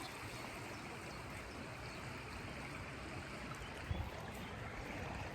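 River flowing beside the Camino de Santiago trail, a steady rushing wash of water heard nearby and continuous, with a brief soft thump midway and no talking.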